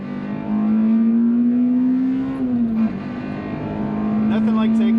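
An Acura RSX Type S with a K20Z1 engine accelerates hard at full throttle, its loud, steady engine note climbing in pitch, dipping briefly at a shift, then rising again, with a voice talking over it.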